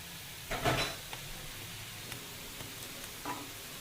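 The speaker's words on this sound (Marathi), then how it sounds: "तुम्ही असेच लालसर करून फ्राय करून काढायचे" Coriander fritters, kothimbir vadi, shallow-fry in a pan with a faint, steady sizzle and a few soft stirring or turning sounds, quiet and close, with no speech.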